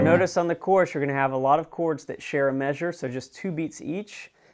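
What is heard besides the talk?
None of the usual background noises is heard.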